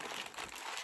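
Crinkling packaging being pulled open around a newly bought item, a continuous soft crackle of paper or plastic that stays close and steady for under a second with no talk over it.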